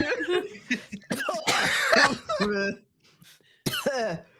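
A person coughs and clears their throat in several harsh bursts, close by, mixed with voices talking and some laughter, with a short quiet gap before a final burst.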